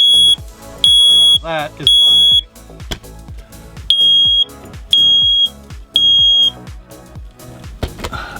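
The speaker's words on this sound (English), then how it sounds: "the smoke detector while I'm cooking, because it turns on, goes off, whatever, every time, except boiling water." An RV smoke detector in a Winnebago Travato camper van sounds in repeated loud shrill beeping bursts, about seven pulses with short gaps, while a person talks briefly and cooking clatter sits underneath.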